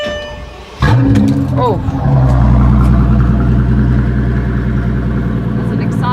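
Maybach Exelero concept car firing up with a key: a sharp ignition catch followed by a deep, loud idle rumble that settles in close, with a brief exclamation from a person over it.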